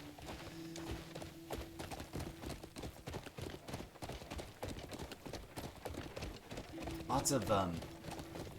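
Horse hooves galloping in Crimson Desert, a steady rapid clip-clop under almost continuous talking, with a brief louder whinny-like burst near the end.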